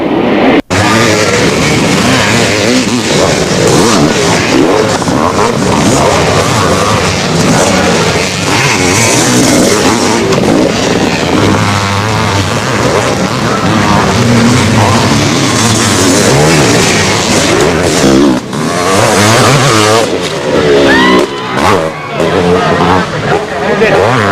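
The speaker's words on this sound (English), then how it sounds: "Now Bailey has pulled away from Glover, and that advantage is gone." Motocross motorcycles racing in an AMA 500 national, their engines revving and droning loudly and continuously from nearby, with a commentator talking over the din throughout.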